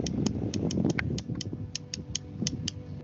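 Two stones tapped together imitate the clicking song of the yellow rail, a rail of cabbage willows, making a steady run of sharp, fairly close ticks over a soft low background rumble.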